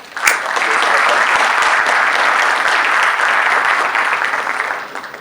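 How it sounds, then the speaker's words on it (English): An audience claps to welcome a speaker at a talks event: a burst of applause swells quickly, holds as a dense steady patter for several seconds, then tapers off near the end. "Help me give a welcoming clap for."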